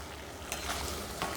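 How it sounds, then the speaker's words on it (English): Tart fruit cooking down with sugar in a pan gives a steady low sizzle and bubbling, with faint stirring scrapes near the middle and end of the short stretch, and no talk over it. "These just need to be cooked, not until they're really mushy, but just until they begin to yield their form and ooze wonderful fruity juice."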